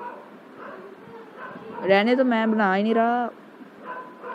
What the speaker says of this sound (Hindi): बाहर कुत्ते हैं वो भौंक रहे हैं